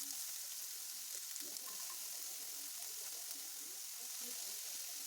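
Green chilies, onion and vegetables frying in a little oil in a kadai for egg momos, a steady close sizzle throughout with faint stirring scrapes.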